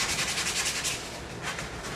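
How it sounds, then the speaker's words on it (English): Hand sanding along the edges of a wooden workbench part built with a Kreg Jig, a steady raspy rubbing with rhythmic back-and-forth strokes, close and fairly loud, alone without talk. "You can just do it by hand, just give a little bit of sanding, kind of take away any burrs"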